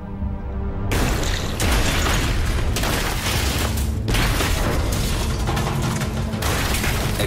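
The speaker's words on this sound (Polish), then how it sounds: "Eksplozje wstrząsają okrętem podwodnym." A rapid series of eight heavy, booming depth charge explosions near a submarine, dropped by a Japanese ship, loud and reverberant underwater, with rattling and clanking between blasts.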